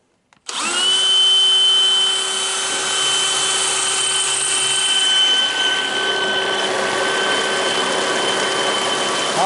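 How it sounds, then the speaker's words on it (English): A steady, high-pitched electric drill whine runs continuously after a brief start as it spins a 3D-printed jet pump, loud and close, with a slight wavering in its pitch. "So I'm gonna try and keep the drill out of the water."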